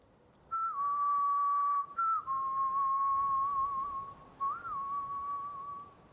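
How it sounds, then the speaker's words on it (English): A single clear, steady whistled tone sounds in the Borderlands video game, held in long notes with short breaks and small pitch bends, close and prominent over a quiet background. "The devils can be spoken with whistling."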